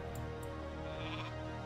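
A flying sheep unit bleating in Warcraft 3 during a match, a short steady bleat heard over continuous game sound, with no talk over it.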